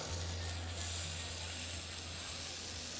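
Meat searing in a hot pan at a steakhouse cooking demonstration, giving a steady, soft sizzle and hiss with no pauses, with a low hum running underneath.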